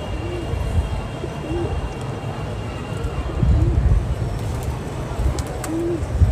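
Pigeons coo softly in a few separate rounded calls, spaced out over a continuous background murmur, with someone talking nearby.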